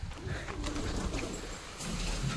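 A pigeon coos softly and continuously nearby, a low murmuring call over faint background noise.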